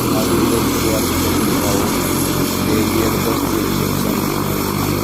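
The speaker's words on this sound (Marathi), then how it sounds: "या सत्तर कोटी रुपयाच्या हेलिकॉप्टरनं अक्षरशः हेलिपॅडवरले दगड उडवले" Loud, steady rotor and engine roar from a nearby helicopter on a helipad fills the whole clip, a constant droning rumble with no pauses.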